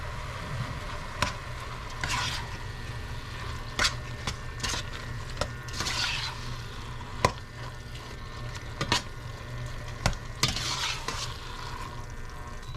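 A mixture gets stirred in a sizzling pan, with scattered scraping strokes and sharp utensil clicks on the pan over a steady low frying hiss.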